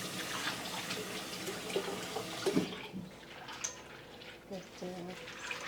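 Cold tap water runs into a sink while pumpkin seeds are rinsed and stirred, a steady splashing rush that cuts off midway, followed by faint drips and a person speaking.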